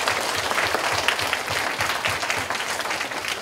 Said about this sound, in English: let's have one little round of applause for the people that entered.